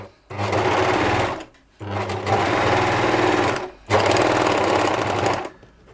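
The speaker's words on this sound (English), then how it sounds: "I'll run it at full speed as well, just for a comparison." A Bernette 610D serger after servicing, run at full speed in three loud, close bursts of fast mechanical whirring and clatter separated by short pauses.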